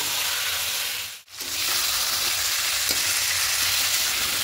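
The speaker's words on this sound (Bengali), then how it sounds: "খুব ভালো করে মিশিয়ে নিচ্ছি। এভাবে একটু কষিয়ে নেব।" Chicken being mixed and sautéed in a pan makes continuous bright sizzling and frying hiss, with a brief break partway through before the sizzle returns at full strength.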